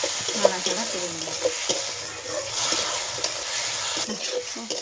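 Poppy seed paste is stirred through ivy gourd in a hot cooking pan, with a steady frying sizzle and repeated scraping stirring strokes running continuously throughout.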